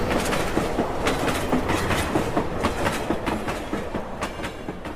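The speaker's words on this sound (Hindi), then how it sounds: "जमीन को थरथराते हुए वो ट्रेन मेरे पास से आगे" A train rumbles past in a Hindi horror story, its steady clickety-clack of wheels on rails loud and close throughout, with the ground-shaking roar holding at a constant level across the few seconds.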